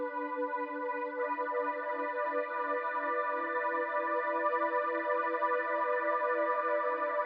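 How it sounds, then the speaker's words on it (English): A single layer of trumpets moves through changing notes in a song verse, playing sustained, smooth tones at a soft, steady level as a background part. "I just have this one layer of trumpets that are kind of going through and playing different notes throughout the verse"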